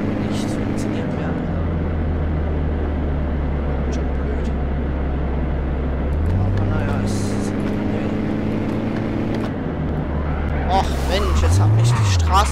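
A tram passes on a city street in the CityCarDriving driving game, its low steady rumble shifting pitch midway as it rolls by close, over continuous engine drone, ending with a brief higher squeal.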